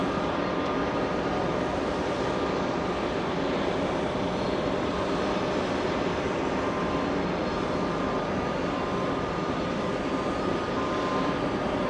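American Airlines jet at JFK airport roars as a steady, distant engine rumble that holds evenly throughout with no voices.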